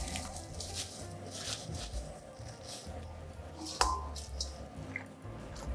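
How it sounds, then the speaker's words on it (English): Fresh spinach leaves dropped into a pot of hot salted water, giving soft wet squishing and rustling with scattered drips and light patter, close and fairly quiet, one sharper splash partway through, no talking. "So now while this water's still hot, we're gonna put this spinach in."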